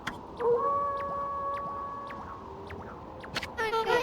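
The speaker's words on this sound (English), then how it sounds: "That was Kamui's howl." In the video game Okami HD, a wolf lets out a long, sustained howl with a steady pitch that wavers slightly, moderately loud against a faint background, followed by a short burst of game chatter sounds near the end.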